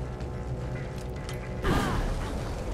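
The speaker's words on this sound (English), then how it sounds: "I need to pick the lock too" Lockpicking in the stealth game Thief: a run of mechanical clicks and ratcheting creaks over a steady game ambience, ending in a louder clunk and grinding turn.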